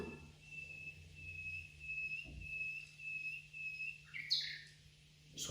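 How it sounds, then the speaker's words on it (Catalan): Birds sing in spring, a steady high whistled tone held for several seconds with brief chirps near the end, fairly faint over a low background hum. "Són ocells."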